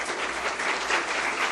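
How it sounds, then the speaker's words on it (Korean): Church congregation at a Korean SFC student worship service bursts into steady, dense applause that fills the hall, continuous and close for the whole moment with no talking over it. "박수 한번 하겠습니다."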